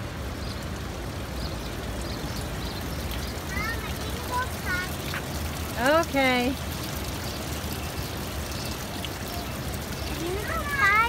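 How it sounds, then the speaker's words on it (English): Small waterfall flowing with a steady close rush of water throughout, while birds chirp and people briefly speak over it. "Here's the little waterfall."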